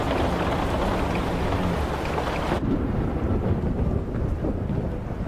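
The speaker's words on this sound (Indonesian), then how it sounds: "terdengar suara petir yang mewakili hujan turun deras" Heavy rain pours in a steady, loud broadband hiss throughout, with a low thunder rumble underneath; partway through the high hiss drops off abruptly while the deep rumble continues.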